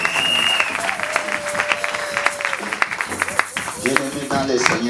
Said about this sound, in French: Alors nous allons acclamer le Seigneur.